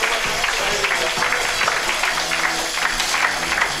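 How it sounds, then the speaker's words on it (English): Spectators at a junior world championship women's 10m air rifle final clap rhythmically in the hall, the steady applause mid-distance and moderately loud under a general crowd murmur. "The crowd are going for it now, aren't they, with the clapping."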